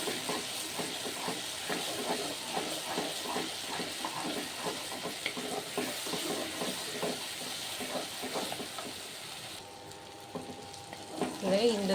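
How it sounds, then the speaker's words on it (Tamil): Tomatoes sauté in a pan with a continuous close sizzle and frequent stirring scrapes, fading slightly near the end where a few brief metallic clinks appear. "தக்காளியை நல்லா வதக்கிட்டோம்,"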